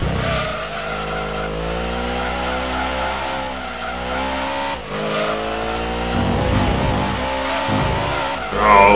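A purpose-built, street-legal race car in the Gran Turismo 2 video game, its engine droning loudly and continuously with shifting revs and occasional tire squeal, with no talking.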